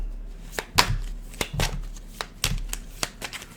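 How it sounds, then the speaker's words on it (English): Crisp, irregular snaps and riffles of playing cards being shuffled close up, over a faint low hum. "One more shuffle."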